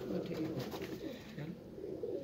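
Domestic pigeons coo softly at a window ledge, a low murmuring burble in faint, repeated phrases, with some background noise.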